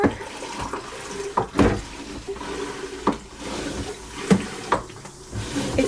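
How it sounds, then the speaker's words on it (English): Seawater runs from a turned valve on a sailboat, a steady gurgling flow with splashes and knocks, fairly close and loud. "if we turn this, Ooh, I see. We have water."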